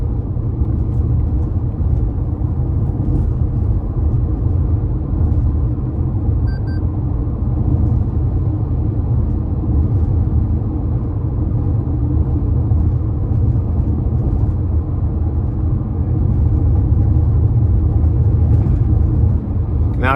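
Steady cabin road noise inside a 2025 Toyota RAV4 LE FWD on an industrial road, a continuous low rumble of tires and engine that holds evenly throughout with no talking.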